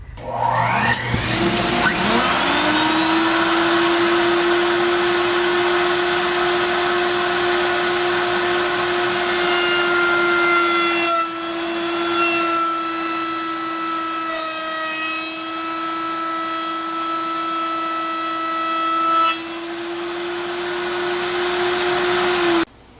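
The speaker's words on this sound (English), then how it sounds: "kick on the router, and it's got a dovetail bit in it, and we're just going to make a through dovetail cut right here" A router fitted with a dovetail bit spins up to a loud, steady high whine and cuts a through dovetail in wood, the pitch dipping slightly as the bit bites in, close and continuous with no talk.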